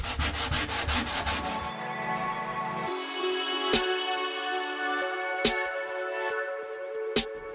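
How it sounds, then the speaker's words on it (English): Primer is rubbed down by hand to bring back a clean, firm painted edge, giving a rapid rhythmic scratchy scrubbing for under two seconds before it stops and steady tonal sounds with sharp occasional clicks take over. "You have to rub it down until you get that edge back"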